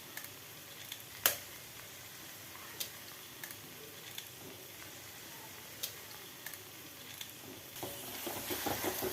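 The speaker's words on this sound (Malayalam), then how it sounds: "മുട്ട ഇളക്കി കൊടുത്തുകൊണ്ടേയിരിക്കണം" Egg being stirred and scrambled in a pan with curry leaves and masala for egg bhurji, with a low steady sizzle and sharp spatula taps against the pan at intervals, growing busier toward the end.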